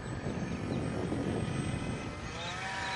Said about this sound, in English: Is that squealing you or the camera? It's the motor,